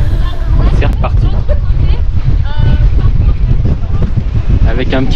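Strong wind buffets the microphone with constant low rumble, while voices talk intermittently over it near a boat on the water in a bay.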